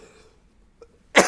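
One sharp, loud cough bursts out at the end after a quiet stretch, from a man with a cold and flu, preceded by a faint throat sound.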